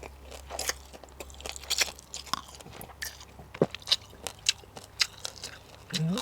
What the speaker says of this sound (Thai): เสียงกรอบปู